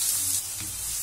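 Finely chopped onions sizzle in hot oil in a pan while being sautéed for a Tamil egg curry, a brief steady hiss and crackle, close and fairly loud, with no talking.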